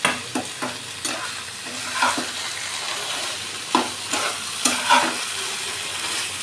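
A spoon stirs pizza sauce in a frying pan, knocking and scraping the metal in short irregular bursts over a soft continuous sizzle.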